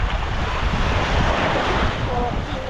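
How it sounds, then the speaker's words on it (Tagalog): Sea surf rolling on a rocky beach in Batangas, a loud, continuous wash of waves heavily mixed with wind buffeting the microphone. "Dito kami sa dagat."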